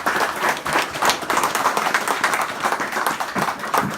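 Audience applause for the author at a book presentation, a steady wash of many hands clapping filling the room, close and fairly loud without any speech.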